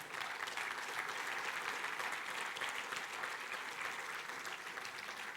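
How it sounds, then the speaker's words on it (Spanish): A church congregation applauding during a Spanish-language sermon at a Fiesta de los Frutos service, a dense, steady wash of clapping from a large crowd, continuous and fairly loud throughout. "Entonces, dele fuerte aplauso al Señor."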